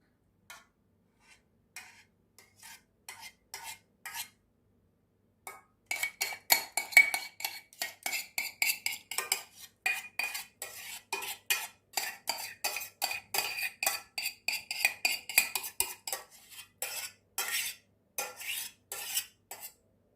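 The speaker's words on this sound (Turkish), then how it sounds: "eşit miktarda yayılması için kaşığımla düzeltiyorum her yerine yayılması için" A spoon spreading béchamel sauce over chicken and artichoke in a baking dish for the oven: a few sparse taps at first, then a dense run of quick, close metallic scrapes and clinks against the dish, with no talking.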